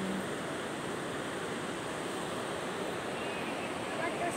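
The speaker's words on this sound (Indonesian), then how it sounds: "Sungai." A river flows outdoors near a village, its water making a dense, steady rushing wash that stays constant and fairly loud, with no clear talk.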